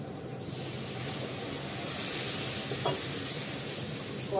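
Food frying in oil in a wok, a steady loud sizzle and hiss throughout with occasional scraping stirs, heard close and continuous.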